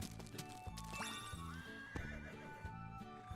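Horse sound effects from the video game Horse Club Adventures on PS4: a horse whinnies and snorts over repeated clip-clop hoofbeats, with bright chimes and brushing touches during grooming.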